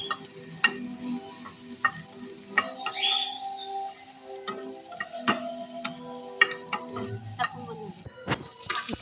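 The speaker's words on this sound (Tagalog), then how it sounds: "Isunod na natin ang carrots. Ayan, igisa natin siya hanggang sa lumambot." Carrots sautéed in a pan for Filipino-style Indomie pancit canton sizzle softly under repeated light ticks and scrapes of a spatula stirring against the metal, with a few sharper clacks near the end.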